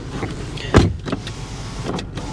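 The electric power window of a 2014 Dodge Avenger V6 hums as it moves, heard from inside the car with a sharp thump from the cabin partway through and a low steady background.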